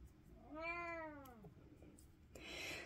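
A pet cat gives one clear drawn-out meow, rising then falling, heard close in a quiet room, followed by a brief rustle.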